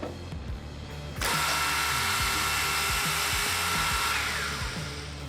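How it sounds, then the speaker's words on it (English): Four pneumatic hold-downs on an Ayen SKB-50 vertical-horizontal boring machine engage with a sudden burst of air that settles into a loud, sustained hiss, amid faint mechanical clicks and rumble. "This is also a good time to see those 4 pneumatic hold downs in action."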